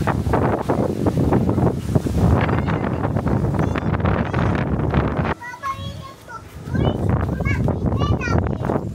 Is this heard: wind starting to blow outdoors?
yes